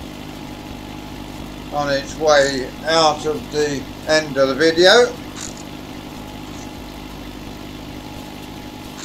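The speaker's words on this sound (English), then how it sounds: "let you see the tractor keep working" A Ford 5610 tractor engine runs steadily while tedding the second cut of grass, a low constant drone throughout with someone talking over it in the first half.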